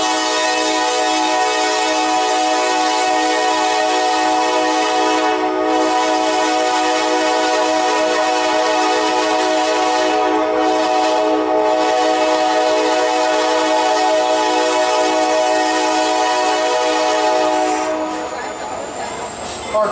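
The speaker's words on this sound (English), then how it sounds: "Our train today has 2 locomotives, one at each end" Train hauled by two locomotives, one at each end, at a 2018 Lansdale Founders Day event, sounds a long, loud sustained horn chord over steady rolling rail noise. The horn holds for most of the stretch before cutting off near the end.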